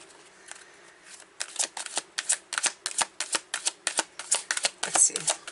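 Tarot cards being shuffled by hand, a quick run of crisp riffling flicks in an uneven rhythm, close and clear.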